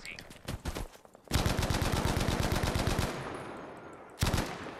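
Bren light machine gun firing in Battlefield V, loud rapid bursts with a sustained stream of shots in the middle and a short final burst, alongside other game gunfire.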